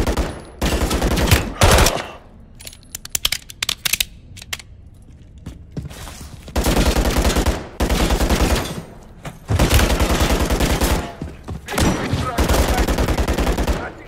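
Bursts of automatic gunfire in Call of Duty Modern Warfare 3, loud and close, coming in several long volleys with short pauses between them and sporadic single shots, over game radio chatter.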